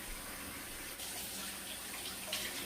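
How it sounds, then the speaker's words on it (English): Hands being washed under a running kitchen tap, a steady close hiss of flowing water with faint splashing changes, no voices. "I'm always washing my hands in between things."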